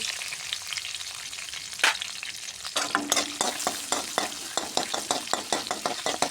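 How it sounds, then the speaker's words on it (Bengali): Chopped onions fry in hot oil with two bay leaves for a fish-head and pumpkin dish, giving a steady close sizzle broken by scraping stir strokes that grow more frequent and rhythmic. "লাল লাল করে ভাজিয়ে নেবো বন্ধুরা পেঁয়াজ।"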